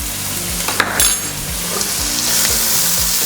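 Three medium sliced onions with half a spoon of salt fry in a pan for a vegetable kurma, a loud continuous sizzle broken by repeated rhythmic scrapes of a spoon stirring.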